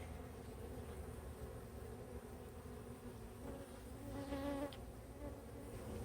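A swarm of honeybees fans and buzzes at the entrance of a hive, a dense, even hum that holds steady throughout and briefly intensifies near the end, with no voices.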